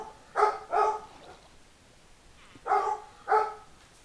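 A dog barks four times in two quick pairs, sharp mid-pitched woofs with a short gap between each pair, fairly close and clear against a quiet background.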